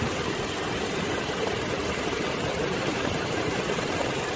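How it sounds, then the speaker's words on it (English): A 2007 Toyota Tacoma engine treated with a Snake Oil additive idles steadily, giving a continuous, even rumble close to the microphone with no voices over it. "Let you listen to the engine."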